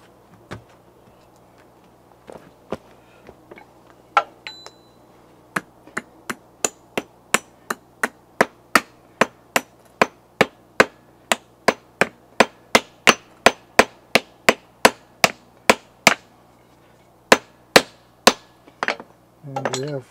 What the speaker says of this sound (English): The washers should be driven on to a tight fit.